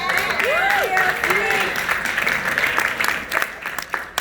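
Applause from an audience at a business-building conference rises in a dense wash of claps, with voices and a brief whoop riding over it, and carries on steadily for the full stretch.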